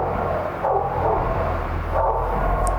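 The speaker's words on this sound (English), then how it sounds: "Initially, he thought it was the dog barking off in the distance." A dog barks at a distance over a steady ambient bed in an audiobook soundscape, with a few muffled, recurring woofs that stay faint and far off.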